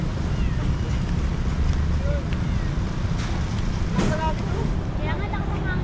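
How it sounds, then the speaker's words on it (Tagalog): Strong wind gusting outdoors, a steady loud rumbling roar across the whole clip that buffets the microphone, with a few faint brief sounds surfacing over it. "Medyo malakas ngayong hangin dito guys"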